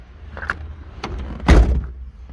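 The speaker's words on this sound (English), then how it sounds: "That's actually quite a good door shut sound" An MG F car door swings and shuts with a solid, low thunk, preceded by a few lighter clicks and mechanical rattles, close by with no talking.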